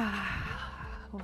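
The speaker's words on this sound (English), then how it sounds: "One more big breath." A single deep breath drawn in during an energizing morning movement exercise, a close, airy inhale lasting about a second, heard alone.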